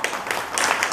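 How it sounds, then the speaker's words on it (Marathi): An audience at a religious satsang gathering claps to welcome a revered Mahanubhav guest: a short burst of scattered, moderately loud applause with no voices over it. "आपण खूप खूप स्वागत करू टाळ्या वाजून"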